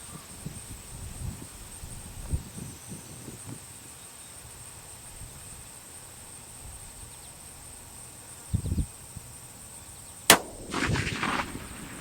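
Tikka CTR rifle fired at a 2-liter soda bottle target outdoors: one sharp, loud report near the end that rings briefly into the distance, after quiet wind noise and faint insect chirping.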